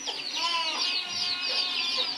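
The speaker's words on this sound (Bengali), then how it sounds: "মুরগিগুলো চ্যাঁক চ্যাঁক চ্যাঁক করছে।" Several chickens clucking and squawking close by in a busy, overlapping chorus of short calls, heard on their own.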